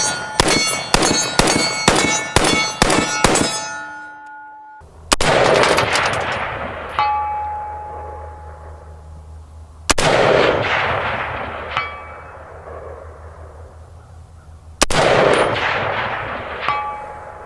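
Rifle fire from FN SCAR 16S, 17S and 20S rifles outdoors, starting with a quick string of sharp cracks, then single heavy shots spaced about five seconds apart, each followed by a ringing steel-target clang and a long fading echo.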